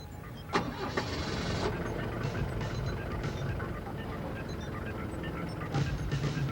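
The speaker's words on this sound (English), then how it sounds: "Start the engine." Lift truck engine cranking and catching, then running at a steady medium rumble, with a few sharp clunks at the start and near the end.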